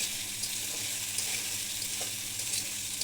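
Fish curry with menu (meni) fish, salt and green chilies sautéing in a pan, a steady close sizzle with faint stirring scrapes running throughout, no voices.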